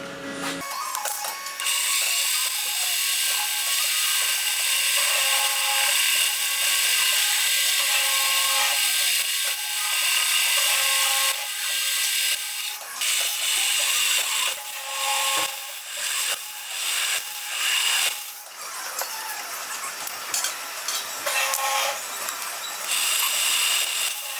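A steady high-pitched mechanical whine of a drill boring a hole through a metal part for a model wobbler steam engine, continuous and close, with periodic grinding shifts and clicks and no talking.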